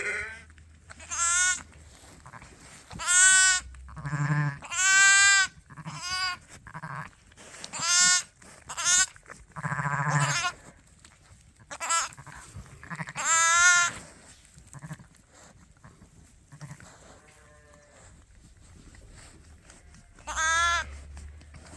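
Several sheep let out of a lambing jug on a farm bleat repeatedly and loudly at close range, a series of separate wavering calls with short pauses between them, with no talk.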